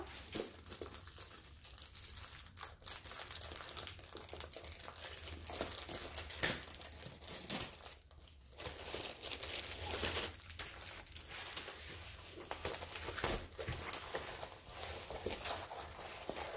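A diamond painting kit package from Diamond Art Club is opened, its plastic crinkling and rustling close up in irregular bursts over a long stretch, with small taps and handling noises and no talking.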